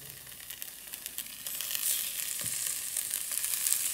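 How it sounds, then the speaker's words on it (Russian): Bacon-wrapped pork tenderloin medallions fry in an open multicooker, giving a steady soft sizzle with faint crackles that builds slightly after the start. "И обжариваем медальон"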